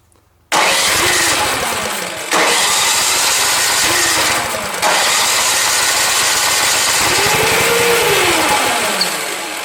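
A small gasoline snow blower engine sputters to life after a pull, then runs loud and rough nearby, its revs surging and dropping a few times.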